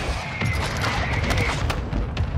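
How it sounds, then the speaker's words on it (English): Mortar strike in Warzone 2, a rapid cluster of loud overlapping explosions and booms with dense gunfire-like cracks, continuous and close throughout. "Mortar strike on the way."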